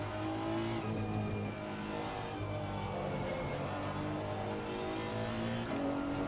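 A Honda NSX GT3 race car accelerates hard at the Nürburgring in a racing video game, its engine note climbing steadily through the gears with brief drops at shifts, loud and continuous with no speech.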